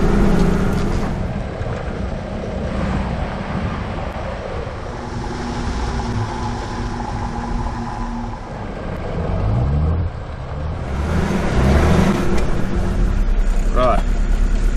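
Four-wheel drive vehicle in low range with hubs locked, crawling through mud on a cape tour; a steady engine drone runs throughout, close and loud, with a rise near the end as it pushes through, and people talk over it.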